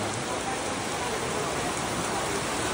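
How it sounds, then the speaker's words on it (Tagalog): Steady, dense rain hisses evenly on a surface outside a barbershop throughout, a continuous close wash of patter with no pauses. "Yun, umulan na naman."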